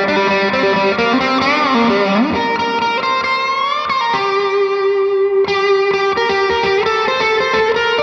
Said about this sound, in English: I pull that lead line isolated from the intro song so you can see and hear exactly what's going on